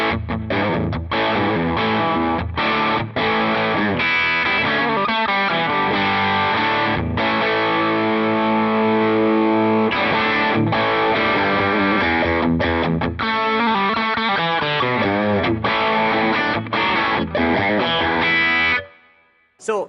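Electric guitar played through a Plexi amp model on a Line 6 Helix Stadium modeler, loud, crunchy and distorted, with sustained chords and riffs running continuously and alone before cutting off near the end.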